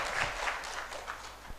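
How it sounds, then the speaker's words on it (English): Audience applause for a volunteer, a short burst of steady clapping from a room of people, moderately loud and continuous for the whole moment. "please a big clap for him"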